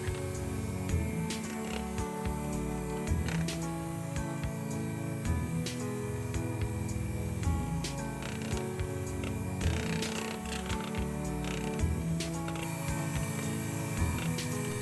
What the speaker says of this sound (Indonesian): lalu nyalakan mixer dengan kecepatan paling rendah